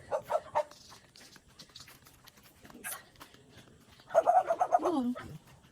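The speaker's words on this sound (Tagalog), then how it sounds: "Yan, may aso na naman." A dog barks in a rapid burst near the start, then a louder run of barks or a yelp toward the end, heard outdoors while people talk.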